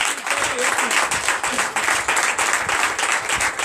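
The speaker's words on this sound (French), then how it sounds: "Donnez l'acclamation." Applause and clapping roll through a congregation at a night prayer and deliverance service, dense and steady throughout.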